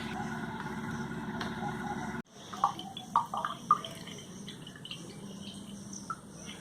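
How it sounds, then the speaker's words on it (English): A pungent liquid solution is strained into a beaker. A steady trickle breaks off into a few distinct splashy drips and patters, heard close up. "Now I am straining this solution to a beaker."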